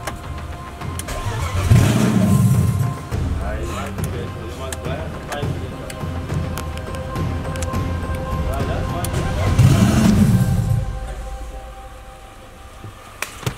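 A new motor engine cranks and catches, revving up twice in strong swells around loud stretches of mid-range running, with outdoor voices talking over it.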